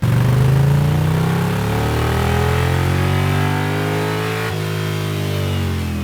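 An Indian Challenger motorcycle engine with Rinehart slip-on exhausts and a Stage 3 kit, deep and throaty, revs steadily and loudly, its pitch slowly rising and falling, close by and without voices.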